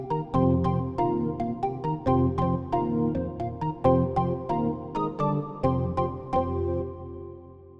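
A Korg M1 digital synthesizer workstation from 1988 plays a preset: bright plucked, bell-like notes over sustained low tones, a busy rhythmic pattern heard alone at moderate loudness.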